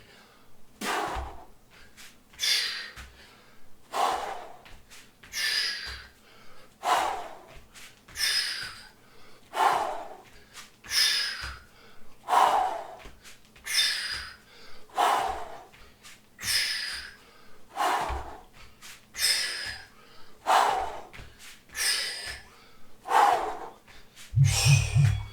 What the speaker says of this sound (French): Bien apprendre à respirer profondément.